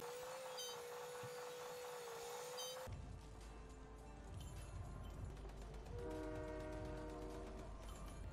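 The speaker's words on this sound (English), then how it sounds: "Riding on the train for the full game?" A train in the video game Fortnite rumbles steadily with a sustained horn blaring over it, then clattering rail noise and another horn tone, loud and continuous.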